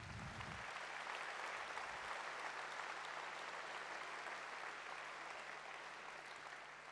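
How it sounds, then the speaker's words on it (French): Steady applause from an audience at a town hall New Year's greetings event in Vichy, honouring the youth municipal council, a continuous even wash of clapping heard from a distance throughout. "vous pouvez les applaudir"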